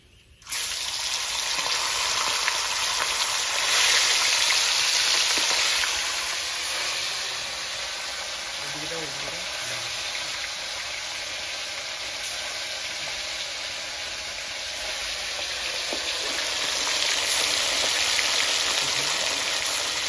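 Fresh pond-caught fish fries in hot oil with a loud, continuous hiss and crackle that swells early, then settles into a steady sizzle with occasional faint clatter.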